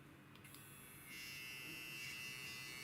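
A partly disassembled electric hair clipper runs with a faint, steady high-pitched buzz that rises slightly in strength after about a second and holds constant.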